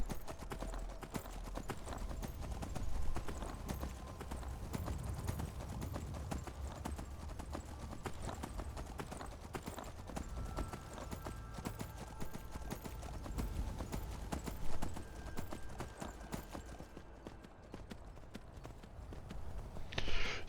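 Horse hooves clip-clopping steadily in the Skyrim video game, a brisk continuous rhythm of thuds over faint ambient game sound, with an occasional whinny and no talking.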